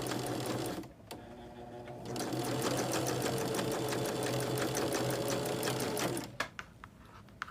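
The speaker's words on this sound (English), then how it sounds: "It's going to go underneath our machine. And we're sewing on the fold." A sewing machine stitches quilt fabric on the fold, running in a fast steady whirring clatter for several seconds after a brief start and pause, then stopping with a few clicks, close and clear.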